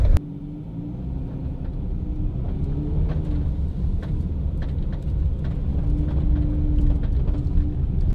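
A 6x6 vehicle rolling across a field, a steady loud low engine rumble and drone that holds evenly throughout, with faint knocks and rattles over it.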